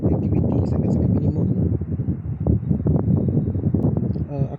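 Strong wind buffeting a highland campsite in Cameron Highlands, a loud, constant rushing roar with gusting microphone rumble, while someone talks over it.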